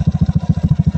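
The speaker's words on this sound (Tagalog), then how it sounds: "Yan na yung bagong tunog ng ng tambutso ni tropa." A motorcycle with a homemade modified exhaust idles close by, giving a loud, rapid, even thumping pulse with no talk.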